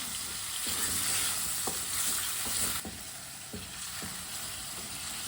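Meat sizzles steadily in a pan while a spoon stirs it, giving several soft scraping taps over a constant, fairly quiet frying hiss that drops a little partway through.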